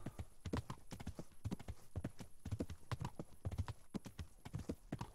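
Horse hooves in the video game Kingdom Come Deliverance, a brisk, regular clip-clop of a ridden horse at a steady gait, fairly quiet and close.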